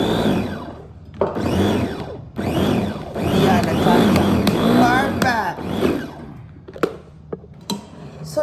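A food chopper whirs in several loud bursts, about a second each with short gaps, as it chops vegetables for chicken kebab lumpia, followed by a few clicks and taps.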